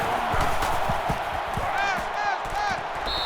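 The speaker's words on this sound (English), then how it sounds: "And this crowd is going absolutely crazy" Stadium crowd in NCAA 14 at an LSU at Alabama football game, a loud, continuous roar with rising cheers, a few sharp thuds and whistle-like tones over the noise.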